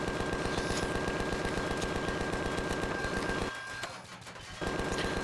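A gun in the space survival game Empyrion fires at yellow ore in a steady, rapid, loud stream of shots, pausing briefly near the end before the firing resumes.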